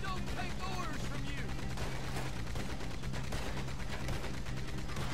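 Rapid, repeated gunfire in the Red Dead Redemption 2 video game during a first-person shootout, a dense stream of shots over a constant game soundtrack with a voice faintly under it.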